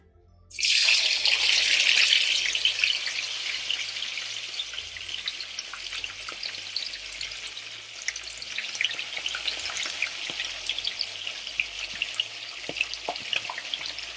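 Overnight-marinated chicken pieces drop into properly hot oil for brown stew chicken. A loud hiss bursts up at once, then settles into a steady, crackling sizzle that keeps going close by with no voices.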